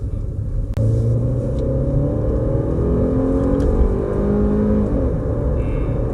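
A Hyundai The New Grandeur 2.5 sedan's engine drones and rumbles steadily from inside the cabin at full throttle, a low sustained hum building slightly as it pulls along.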